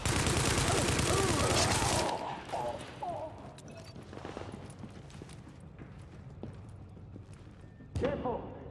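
Bursts of video game gunfire crackle loudly for the opening two seconds, then thin into scattered shots and impacts under steady background noise, with another loud burst near the end.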